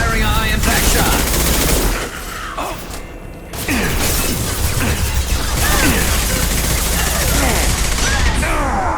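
Heavy weapon fire and mechanical clatter from Mass Effect 2 Legendary Edition as a high impact shot is fired, loud and dense almost throughout with a brief dip partway.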